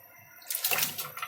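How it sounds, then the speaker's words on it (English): Blanched cauliflower pieces drop into a bowl of ice water with a short, bright splash and slosh after a quiet moment, close and alone. "Put them in the ice water."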